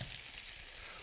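Button mushrooms caramelizing in a pan make a dense, even sizzle for about a second, close up and without any voices.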